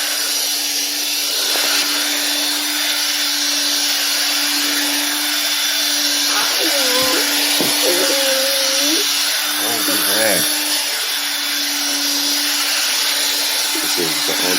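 Bissell carpet cleaner scrubbing carpet with its brush, a constant whirring motor hum with broad hissing noise, interrupted by a few brief vocal sounds midway and near the end.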